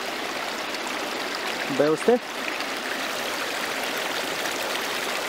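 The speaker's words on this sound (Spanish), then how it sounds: "Pues el agua sale de aquí de la roca." Spring water pouring steadily out of rock at a village spring in Cajamarquilla, a continuous broadband rushing trickle filling the whole clip, briefly interrupted by a short spoken question from a man.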